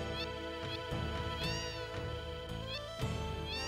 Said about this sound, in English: Look at all these cats.